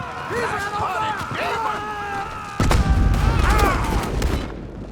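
Gunfire from an enemy shooter in Red Dead Redemption 2 rings out in a burst of sharp cracks in the second half, loud and close, while someone talks over it.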